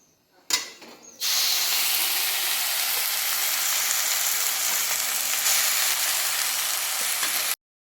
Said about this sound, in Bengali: এবার আমি শাকটা দিয়ে দিচ্ছি।